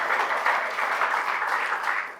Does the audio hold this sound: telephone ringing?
no